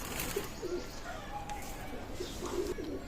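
Teddy pigeons of an Oman bloodline coo in soft repeated rounds at a loft, the low throaty calls rising several times over a steady background murmur and faint chirps.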